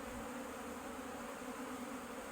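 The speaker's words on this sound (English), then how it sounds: "these are the bees just sort of hovering here" Honey bees hovering in front of a hive in Newfoundland during orientation flights, a steady continuous buzzing drone from many insects, faint and even throughout with no talking.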